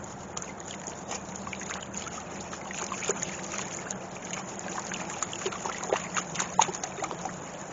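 Cut stems of old-fashioned pink cuttings are swished around in a container of water to loosen compost from the roots, giving soft, close sloshing and trickling with small splashes over a steady background hiss.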